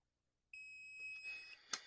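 A 3D printer filament splicer gives a thin, steady electronic beep tone lasting about a second, fairly quiet, with a small click and soft handling noise near the end.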